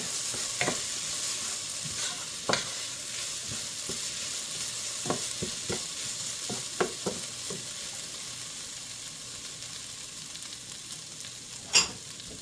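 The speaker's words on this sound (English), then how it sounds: "So these onions are coming on very nicely." Onions frying in a pan for burgers, a soft steady sizzle broken by scattered stirring scrapes and clicks, with one sharper clatter near the end and no talking.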